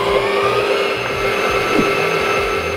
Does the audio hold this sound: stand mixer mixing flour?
yes